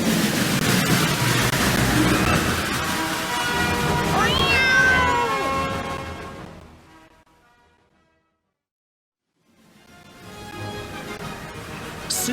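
A cat meows while stuck up a tree, its cries blended into a dense, noisy backdrop that fades to complete silence before the noise swells back.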